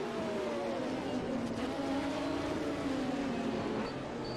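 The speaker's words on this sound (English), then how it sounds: "listen to that flat 6 engine, or flat 4 engine as it will be in the GTD" A Porsche endurance race car's flat-six engine drones steadily at high revs in an onboard view. The sound is a loud, continuous tone whose pitch slowly shifts, with no talking.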